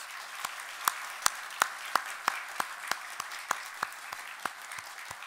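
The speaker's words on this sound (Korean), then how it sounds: "하나님께 영광의 박수를 올려드립니다." A church congregation claps in a steady, rhythmic beat, each clap crisp and evenly spaced, fairly distant in a large room.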